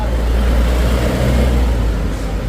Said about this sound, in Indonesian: Wah, ada yang nyalip bos ini